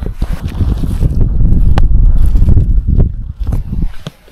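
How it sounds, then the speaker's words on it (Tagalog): Strong night wind buffets a cold mountain campsite at Atok, Benguet, roaring in loud continuous gusts with heavy rumbling microphone noise and no voices. "Ayan guys, lakas ng hangin."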